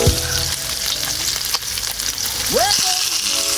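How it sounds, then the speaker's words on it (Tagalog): Garlic and onion sizzle steadily in a hot pan, a loud, continuous crackling fry with a few short clanks and scrapes of a utensil stirring close by. "So, ayan po, ginigisa na natin yung bawang sibuyas."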